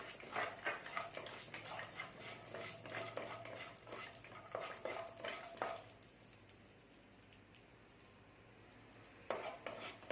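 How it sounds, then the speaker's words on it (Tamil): About 50 grams of cashew nuts fry in hot ghee, a spoon clicking and scraping against the pan for several seconds before fading to a faint, steady sizzle with one more scrape near the end. "ஒரு 50 கிராம் முந்திரி பருப்பு இதை போட்டு வறுத்து எடுத்துக்கலாம்."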